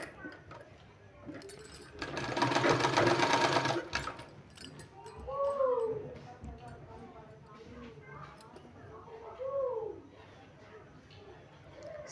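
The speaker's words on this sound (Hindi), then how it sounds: "इसमें हमको सिलाई लगा देना है" Sewing machine stitching a garment sleeve in a short loud burst of rapid stitching, followed by someone talking.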